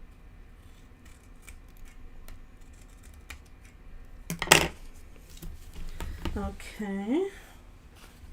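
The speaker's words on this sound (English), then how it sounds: "so I'm just gonna cut a little bit off" Scissors make one short, sharp snip, trimming a small piece off during a glue-and-paper craft project in a quiet room. A voice speaks briefly nearby.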